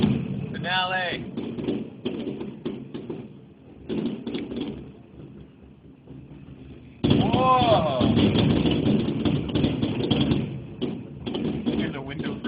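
Fireworks finale on the 4th of July in Spokane booms in a rapid series of loud thumping explosions, rattling a window frame, with excited voices talking and exclaiming over the blasts.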